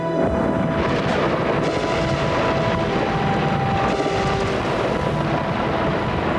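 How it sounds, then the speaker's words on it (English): Anti-aircraft gunfire over Baghdad during a night attack, a continuous loud roar of bursts and booms with a dense rumbling wash throughout, no talking. "Anti-aircraft gunfire going into the sky."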